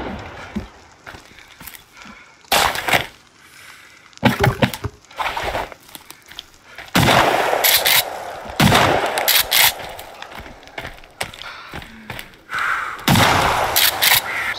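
Pistol shots in the survival video game Sons Of The Forest ring out in several separate bursts, loud and sharp, mixed with running footsteps and ambient game noise.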